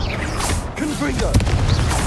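Blasting-spell explosions from Confringo in the Hogwarts Legacy video game, several booming impacts and sharp cracks mixed with mechanical clatter in dense game audio.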